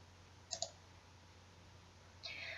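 Two quick computer mouse clicks in close succession during data entry in CP-Master material-cutting software, faint and alone over a low steady room hum, followed later by a brief soft scrape.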